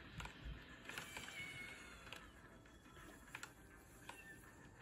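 A cartoonish cat meow effect from a player's cosmetic in the Roblox game Blade Ball, heard amid busy in-game sounds and clicks, with a sharp burst at the very end.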